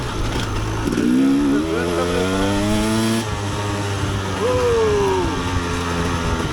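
A KTM EXC 250 dirt bike revs loudly nearby, its engine pitch climbing and dropping through throttle blips and rising pulls, then easing back before surging again.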